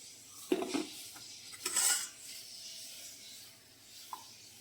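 Metal utensils clink and scrape against a pan and plate as kolaputtu, a Palakkad Diwali snack, is lifted out and moved onto a plate, with a few quiet knocks and rubs, close and fairly soft.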